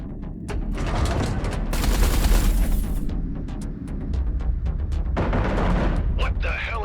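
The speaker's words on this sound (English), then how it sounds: "Eduardo, concentrate artillery fire on Blakemore's carrier." Heavy artillery and rapid gunfire in the space combat game Everspace 2, aimed at an enemy carrier: dense, loud volleys and booming blasts that roll on almost continuously, with voices talking over the barrage.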